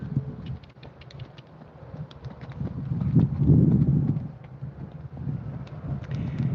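Steady, irregular hoof clops of a horse walking on hard ground, with a low wind rumble underneath and no voices.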